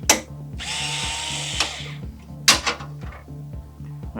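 Electric screwdriver whirring in short bursts as it undoes the screws on the back of a graphics card during a GPU swap, with a few sharp clicks of the bit and metal parts against a steady low hum.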